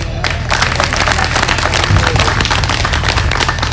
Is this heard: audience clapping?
yes